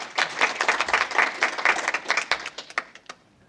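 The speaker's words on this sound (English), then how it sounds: "I think we need to appreciate him with a clap." Workshop audience clapping for a visiting professor, a dense burst of many hands that thins out and trails off into a few scattered final claps.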